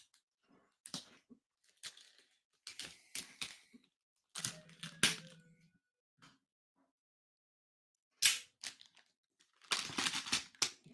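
The plastic bag packaging of an Atari 2600+ console is opened, heard as close, clustered bursts of crinkling and rustling separated by quiet gaps.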